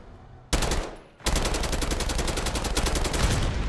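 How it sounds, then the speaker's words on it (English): Rapid automatic gunfire and explosive launcher shots in a first-person shooter match using the Noob Tube grenade launcher, a loud dense burst after a brief lull, continuing steadily with no talk. "Bro, he's shooting Noob Tube back at me."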